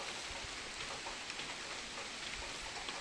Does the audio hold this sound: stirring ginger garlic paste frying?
no